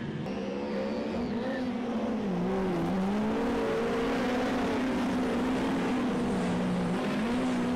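Midget race cars at Stratford Speedway drone loudly past in a continuous pack, engines holding a steady wavering whine with slight revving shifts, close and sustained without speech.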